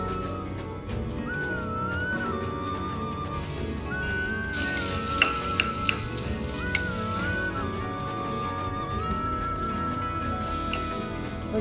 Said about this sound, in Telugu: టపటప అంటూనే ఉల్లిపాయలు వేసేద్దాం